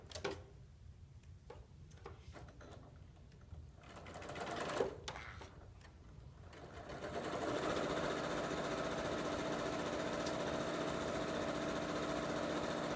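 A Janome 8900 sewing machine stitches bias binding for a quilt, its motor starting up after a few light handling clicks and then running at a steady, even hum for several seconds, close and alone.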